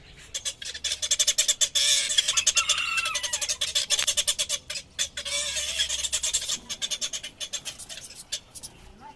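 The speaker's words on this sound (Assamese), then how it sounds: "ইয়াত থাকি গোটেই চৰাই তৰাই কুকুৰা চুকুৰা পহু চহু চব আছে ইয়াত" Birds and chickens in a small backyard enclosure chirp and squawk in rapid repeated bursts, loud and close, continuing for several seconds with a short pause in the middle.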